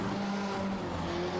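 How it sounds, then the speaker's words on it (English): A hill-climb race car at the European Hill Climb Championship roars loudly and steadily at high revs, its engine note holding close and continuous without a break. "while we listen to the roar of that engine from John Spider."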